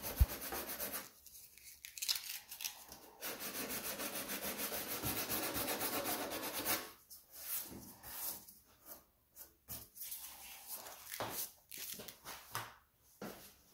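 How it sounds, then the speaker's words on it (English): Sandpaper of 120 grit is rubbed by hand over a cracked fiberglass Honda EF Civic hatch spoiler, making close, rasping strokes that run continuously at first and then break into short, uneven scrubbing passes. "Now I'm sanding it down with 120 grit sandpaper to expose the crack a little bit more"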